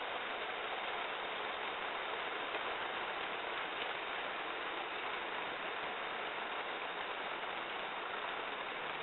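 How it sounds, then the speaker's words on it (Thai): Steady rain pours down in Nong Hoi, Chiang Mai, as a dense, even hiss that keeps going without a break and without any voices. "ฝนตกที่หนองหอยจังหวัดเชียงใหม่ครับ"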